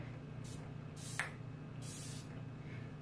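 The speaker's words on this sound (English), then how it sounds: "This is the NYX Bare With Me Prime Set Refresh Multitasking Spray." NYX Bare With Me Prime Set Refresh Multitasking Spray mister giving three short, close hissing spritzes with pauses between them, over a steady low background hum.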